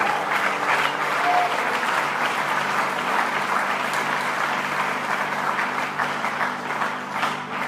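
A church congregation claps in steady, dense applause that fills the whole stretch evenly and loudly, with no pauses, easing slightly only at the very end.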